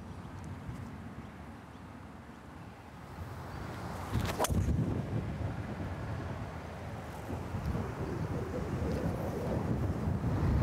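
Wind gusts across an open golf course, a continuous broadband rush that swells and buffets the microphone, with a sharp knock partway through and no talk.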